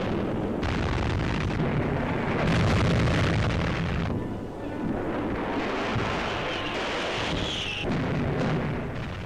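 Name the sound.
bomb explosions hitting an aircraft carrier in 1942 footage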